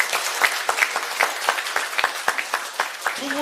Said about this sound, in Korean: 박수 한번 주세요.